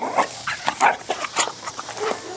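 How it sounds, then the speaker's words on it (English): A hyperactive dog makes busy, excited vocal noises (yips, whimpers and short barks) in quick, irregular bursts throughout, fairly close and loud, with no talking over them. "Crazy dog."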